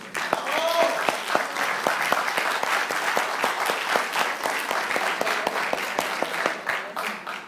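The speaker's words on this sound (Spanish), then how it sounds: "les pido un fuerte aplauso," An audience gives strong, sustained applause at a presentation, many hands clapping at close range, steady for several seconds, with some talk underneath.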